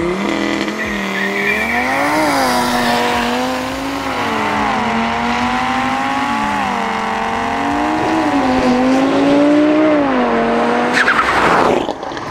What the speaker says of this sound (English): this is my Audi TT RS 2017 model, stage 3, tuned by QT Performance